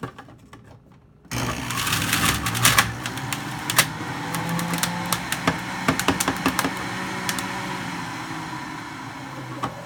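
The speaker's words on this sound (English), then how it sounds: "So I cut up about 2-3 stalks of celery, kind of medium-sized celery, and just throw it on in there" An electric juicer grinding medium-sized celery stalks for cabbage-based juice, starting abruptly after a quiet second with a steady motor hum and irregular sharp clicks and cracks as the pieces are crushed.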